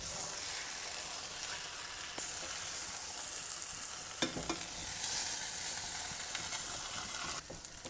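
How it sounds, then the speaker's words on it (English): Beef frying in a pan gives a steady, fairly quiet sizzle and hiss, broken by a few sharp clicks and scrapes from stirring. "it's starting to cook"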